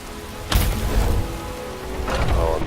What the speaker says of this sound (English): I'm sure that rain is making me feel everything's cold